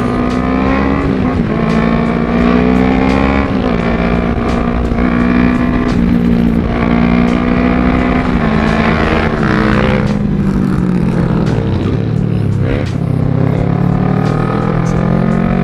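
Honda CBR250RR motorcycle engine revving hard and accelerating on a busy road, a loud continuous drone with rising and falling pitch as it shifts through gears, close and steady throughout.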